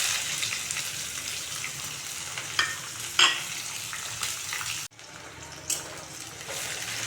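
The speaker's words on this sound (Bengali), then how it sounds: "পেঁয়াজগুলোকে লাল লাল করে ভেজে নেব।" Two large chopped onions frying in a pan for a thin chicken curry, a steady close sizzle with stirring and spatula knocks. A brief dip in the sizzle comes partway through.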